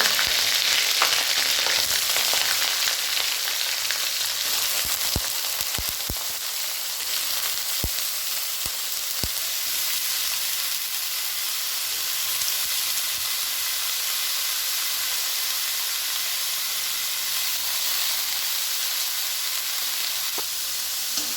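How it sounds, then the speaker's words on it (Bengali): Sliced snake gourd fries in hilsa fish oil, a loud, steady, close sizzle and hiss that runs throughout with a few faint clicks from the pan. "এবার আমি এর মধ্যে দেবো চিচিঙ্গাগুলোকে কেটে রেখেছিলাম আমি"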